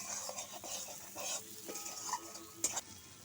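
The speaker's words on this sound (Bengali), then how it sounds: "এবার কিছুক্ষণ কষিয়ে নেবো মশলা" Spice paste for a Bengali rohu-style fish curry is sautéed and stirred in a pan, with quiet sizzling under intermittent close scraping strokes and a few light clinks of the utensil, no speech.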